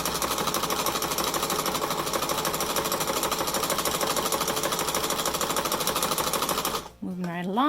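Home sewing machine stitching a DIY fabric face mask, a fast, even mechanical chatter running loud and unbroken for several seconds before it abruptly stops and a voice briefly speaks.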